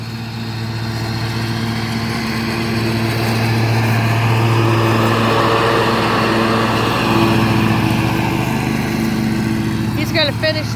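Lawn mower running steadily while cutting grass in fall, a continuous close engine drone with a faint voice over it and a brief clatter near the end.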